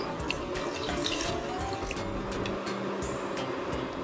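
Water is poured steadily into a lassi mixture of sugar, cocoa powder, chocolate and ice, making a continuous splashing trickle close by with small drips throughout.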